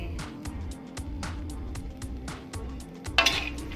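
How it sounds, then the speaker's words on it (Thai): Shallots and garlic dry-roasting in a pan for a grilled saba fish dip, with a spatula scraping and clinking against the pan in a steady, repeated rhythm and a sharper clatter near the end. "ก็ใส่ กระเทียมลงไป เพราะว่ากระเทียมก็จะหัวเล็กกว่านะคะ ก็เลยคั่วที่หลังนะคะ คั่วต่ออีกหน่อย"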